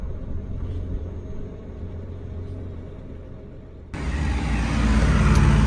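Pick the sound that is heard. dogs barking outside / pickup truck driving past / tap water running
pickup truck driving past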